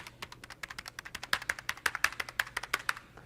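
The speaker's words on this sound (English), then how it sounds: "This keyboard is the TKO version, so it is not the clicky one or the tactile one." Rapid typing on a TKO mechanical keyboard with non-clicky, non-tactile switches: a steady run of close, crisp keystrokes with no speech.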